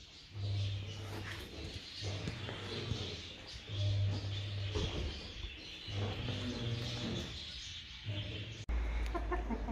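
A bird gives repeated odd clucking, chirping calls outdoors, several bursts spread through the stretch over a steady background, with faint low noises in between.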